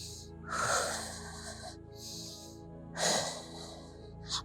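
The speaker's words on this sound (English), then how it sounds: "I'm really making a sound of my breathing so that you're aware not to hold your breath when you exert effort" Heavy, audible breaths during a core exercise: two long, forceful exhales a few seconds apart, close and loud, with a steady low hum underneath.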